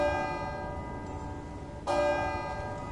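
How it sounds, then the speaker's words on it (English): A tower bell in the video game Modern Tales: Age of Invention rings with a sustained metallic tone, then a second louder strike cuts in, its overtones ringing on. "Uh-oh, the bell's ringing."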